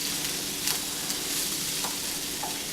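Green beans stirred in a hot pan give a steady, fairly quiet sizzle with soft scraping touches from the stirring, and no voices over it.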